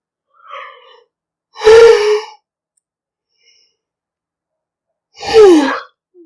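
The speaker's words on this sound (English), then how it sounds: "I'm doing a lot of yawning in this reading, more than the others." A person yawns twice with long, loud breathy exhalations a few seconds apart, close to the mic, with a faint shorter breath before the first.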